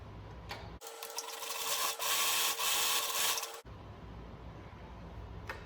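A sewing machine stitches along the edge of fabric for a reversible face mask, running in one steady, fairly loud burst of about three seconds with quiet room sound before and after.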